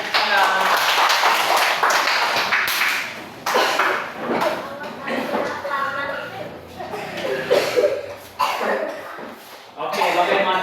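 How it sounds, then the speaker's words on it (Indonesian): Group of children clapping hands together in a classroom lesson, a loud sustained burst of many overlapping claps with chatter and laughter mixed in. "Oke, kita tepuk tangan."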